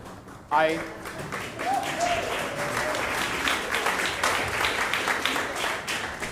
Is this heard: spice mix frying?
no